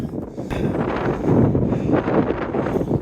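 Strong gusty wind buffets a PreTents Border Tent, a steady loud roar of wind noise against the microphone with rustling fabric, swelling and easing in gusts throughout.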